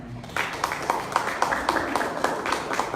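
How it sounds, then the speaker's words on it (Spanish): A church congregation claps together in a steady, rhythmic beat of sharp hand claps, moderately close and sustained throughout, with a faint murmur of voices underneath. "Dale un aplauso al Señor."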